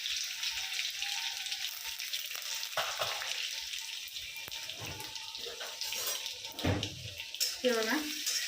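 Crushed garlic sizzling in hot oil with popped mustard seeds and cumin, a steady close frying crackle with a few utensil clinks and stirring sounds near the end, no talking.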